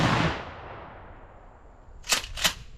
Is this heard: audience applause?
no